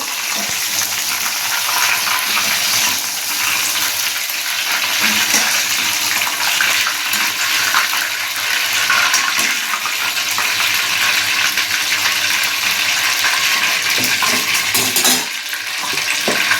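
Mushroom pakodi frying in hot oil, a steady, loud bubbling sizzle that runs unbroken from start to finish with no talking over it.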